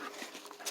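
A dog pants quickly and whimpers softly at close range, a faint, breathy, fluttering sound with small whines, heard briefly with no one talking.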